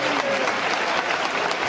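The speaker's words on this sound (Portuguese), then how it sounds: "Se você quiser continuar aplaudindo a ele, pode aplaudir a ele." A church congregation applauds in dense, steady clapping throughout, with a faint voice or tone audible beneath the crowd.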